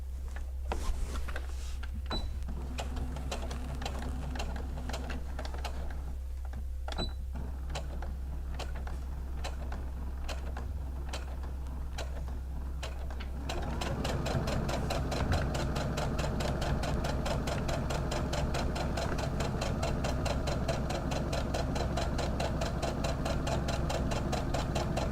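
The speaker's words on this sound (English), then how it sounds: "And again, I'm back stitching." Sewing machine back stitching along the end of a fabric pouch, a steady rapid mechanical stitching rhythm that picks up and grows busier about halfway through, continuous and close over a low steady hum.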